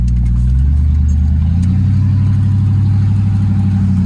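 A loud, deep engine rumbles steadily with a throaty exhaust burble, heard close up as a 1989 Range Rover Classic drives along without any talk.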